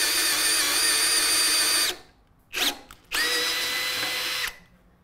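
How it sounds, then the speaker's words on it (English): A power drill bores a depth-marked hole in a wooden chair leg for a side stretcher tenon, running loud and steady in two long bursts separated by a short pause with a brief spin-up between. "the blue tape on the drill bit indicates how deep we want to drill the hole"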